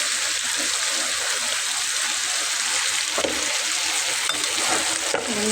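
Chopped taro added to a hot pan for a Bengali taro-greens dish with hilsa fish head, frying in a steady, loud broadband sizzle with a couple of brief stirring clinks, no talk.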